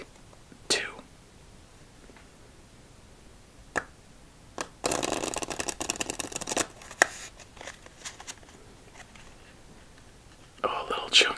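Playing cards being shuffled for a game of solitaire, a close, crisp riffling burst of about two seconds among soft whispering and occasional taps and clicks.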